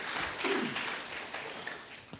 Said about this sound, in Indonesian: Tepuk tangan dulu bagi dia, saudara